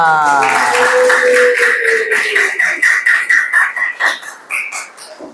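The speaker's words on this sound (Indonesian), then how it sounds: "Tepuk tangan dulu untuk kita semua" Scattered hand clapping at the end of a class lesson builds into a steady patter after a fading tonal voice or chime, moderately close, with brief vocal sounds mixed in.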